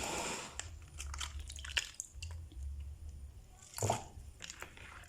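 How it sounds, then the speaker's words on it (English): Chopped cabbage being rinsed in vinegar water and tipped into a saucepan, with soft wet drips, squishing and splashing in irregular bursts, close and fairly quiet. "So I'm going to wash them straight away into my saucepan"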